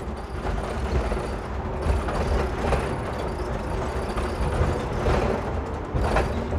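An old MAN A 21 city bus rattles and clatters as it drives, its loose panels and fittings shaking over a continuous engine and road rumble heard from inside the vehicle.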